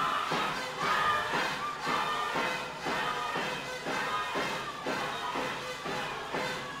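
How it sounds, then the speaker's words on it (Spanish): Spectators at a lucha libre wrestling event shouting and cheering in rhythmic bursts in support of a wrestler, a roaring crowd sustained throughout with repeated swells and faint thuds. "Es más escándalo el que se escucha en apoyo a Dávora."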